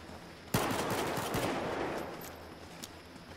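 M1911 pistol fire in a pistols-only Battlefield 4 gun game match, a sharp close shot followed by a few quick reports and a ringing, fading tail.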